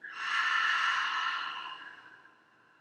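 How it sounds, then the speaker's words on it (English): A deep breath let out through an open mouth during a beginner yoga session, a single long, breathy exhale that swells quickly and fades away gradually, close and clear with no talking. "Open mouth, exhale."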